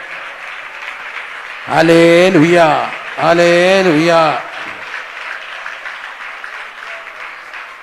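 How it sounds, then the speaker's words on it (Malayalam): A church congregation claps hands in praise with a continuous, moderate patter running throughout, while a loud voice calls out twice over it. "അതിരം തുറന്ന് കൈയടിച്ചൊന്ന് സ്തുതിച്ചേ"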